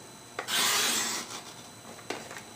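Paper is cut for a pop-up book with a close, dry scraping rasp. One sustained stroke of about a second is followed by a short second cut, and no one speaks.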